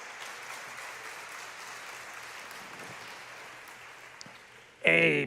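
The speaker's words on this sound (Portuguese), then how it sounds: "As irmãs batam palmas para esses homens guerreiros que vão estar aqui" Women in a church congregation clap steadily for a group of men, a soft, even patter of applause that carries on throughout before a voice cuts in loudly at the very end.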